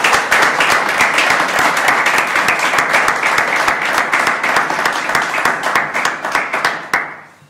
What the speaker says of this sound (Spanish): simplemente le pasamos la palabra y démosle un aplauso, si os parece.